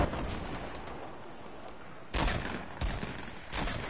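Rocket launcher fire in Fortnite: three loud, sharp bursts with a rumbling tail, after quieter gameplay noise with faint distant pops.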